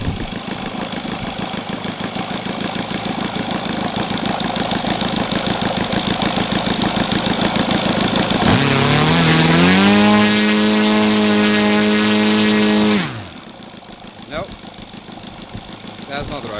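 A Saito 270 twin-cylinder model aircraft engine converted to run on gasoline drones loudly and steadily, then rises in pitch to a higher, harmonic-rich howl before cutting off abruptly, leaving near silence with a few small clicks.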